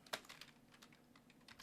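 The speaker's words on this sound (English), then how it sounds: "So we're going to keep typing though." Keys clatter on a computer keyboard in quick, uneven bursts of typing, close and fairly quiet, with no voice over them.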